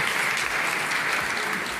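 Loud, continuous applause fills the hall at a district-level teachers' union education conference in Udaipur, Rajasthan, a dense even roar of many hands clapping with no gaps.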